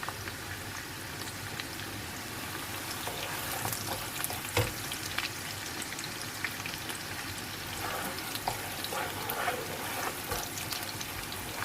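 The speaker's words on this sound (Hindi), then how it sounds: "आलू हल्के से फ्राई करके इन पे हल्का सा कलर देके फिर हम इसको निकाल के साइड पर रख देंगे" Potato pieces frying lightly in a pan of oil, giving a steady, close sizzle throughout with occasional crackles and soft stirring clicks.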